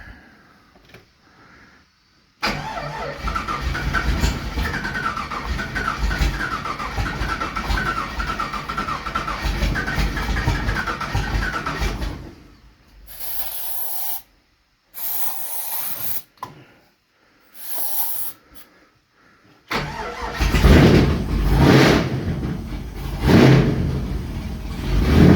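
Engine turning over and catching straight away after its plugged squirters were cleaned out, then a loud steady idle with brief bursts and gaps, ending in a heavier rumbling run.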